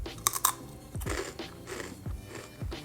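Spicy, heavily seasoned Trader Joe's chips are crunched up close, with a few sharp crisp bites followed by irregular chewing crunches at a quiet level.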